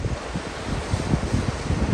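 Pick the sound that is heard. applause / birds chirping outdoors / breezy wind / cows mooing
breezy wind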